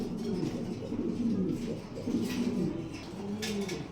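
Pigeons of a high-quality Mundian breed cooing, soft repeated low coos from several birds close by, overlapping in a steady murmur with no speech.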